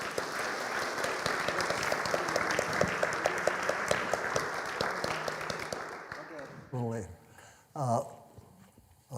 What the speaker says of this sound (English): Could we give him a round of applause